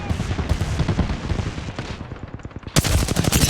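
Continuous automatic gunfire in the battle-royale video game Apex Legends, loud dense rapid shots overlapping for several seconds with a sharper burst of heavier fire near the end, no talk over it.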